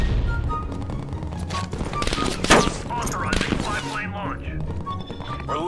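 Tommy Gun gunfire in Call of Duty: Cold War, rapid automatic bursts crackling loudly alongside other shots and thuds over a continuous game soundscape, with a voice speaking at points.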